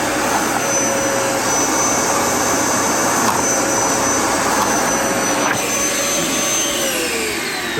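A Dyson DC07/DC14 upright vacuum cleaner runs steadily with its brush roll spinning, a loud, constant, close whine and roar that holds for the whole stretch without any voices.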